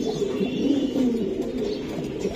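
Racing pigeons from a breeder's loft coo steadily and close by, a continuous layered murmur of several birds throughout.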